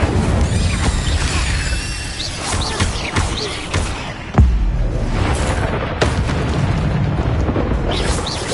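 Video game spell effects fire off in a dense, loud sequence of whooshing bursts and booming impacts, with a sharp blast near the middle and continuous magical noise throughout.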